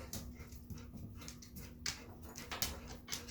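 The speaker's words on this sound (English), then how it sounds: "dogs can be very distracting." A dog whimpers softly and pants close by in a quiet indoor room, with short breathy bursts and high whines scattered unevenly through the moment.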